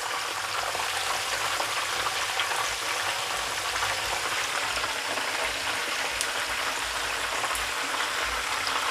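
Chicken wings frying in a pan, a dense, loud, continuous crackling sizzle with no pauses and no one speaking.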